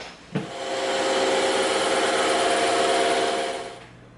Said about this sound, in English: we're going to cut this part of our template out first on the bandsaw.